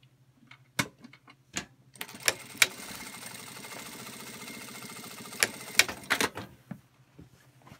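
A Singer industrial sewing machine stitching all the way across the end of a bag in a fast, even mechanical chatter lasting a few seconds. Sharp handling clacks come just before and after the run, and nobody speaks.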